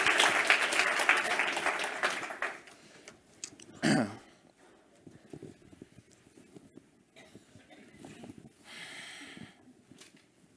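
A live audience at a Boston education talk event applauds to welcome a spoken word artist to the stage: a loud burst of crowd clapping over the first few seconds that fades, then quieter room noise and scattered small sounds.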